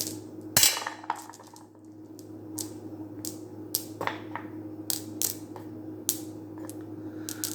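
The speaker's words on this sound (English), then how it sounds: "Let's put the stones back in the bag." Small rune stones clink and clatter as they are dropped back into a bag, a scattered series of light, close taps and knocks over a faint steady hum.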